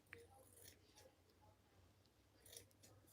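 Fabric being trimmed with a large pair of scissors: a few quiet, scattered snips spread across a mostly hushed stretch, ending with a louder closing cut.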